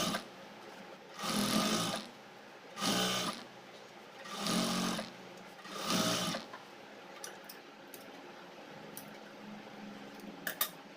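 A sewing machine stitches over an elastic waistband on a pair of pants, running in four short bursts of whirring with quiet pauses between them. Faint clicks and handling sounds follow once the stitching stops.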